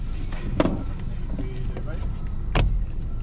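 A red truck arrives at night, its vehicle noise rumbling underneath as people talk nearby, with a couple of sharp knocks standing out.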